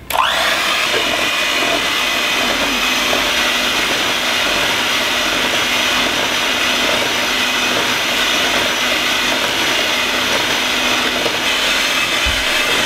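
An electric mixer blending sugar and melted butter for donut batter switches on abruptly and runs as a loud, steady high-pitched whir, unchanging for the whole stretch with no voices.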